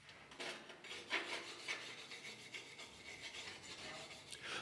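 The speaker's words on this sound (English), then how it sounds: "Next, chip and clean both tacking beads prior to making the full weld." Rough scraping and brushing strokes clean the slag off welding tack beads in shielded metal arc work, a series of quiet rasping passes in an uneven rhythm, no talking.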